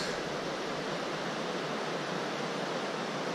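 Mountain stream on the approach to Kazbek, a steady full rush of flowing water, close and even throughout with no breaks or voices.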